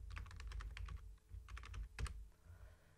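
Typing on a computer keyboard while entering code for a Minecraft mod, quick bursts of close, crisp key clicks in short clusters with brief pauses between.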